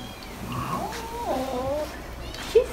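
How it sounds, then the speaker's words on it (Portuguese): A house cat meows complainingly by its food and water bowl indoors, a run of drawn-out, wavering cries close to the mic, ending with a brief sharper squeak. "Aqui temos Dona Nini com a sua água de ração, reclamando."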